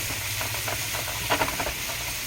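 Italian sausage links sizzle in a pot while a utensil breaks them up, making soft scraping and stirring taps over a constant hiss of frying.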